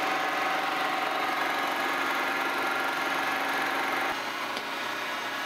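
A milling machine cutting dovetail angles on a new cross slide gib for a Monarch lathe restoration, a steady loud machining drone with a continuous whine that drops slightly near the end.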